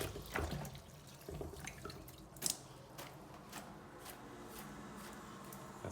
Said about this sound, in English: This is cold water, guys, just to rinse everything.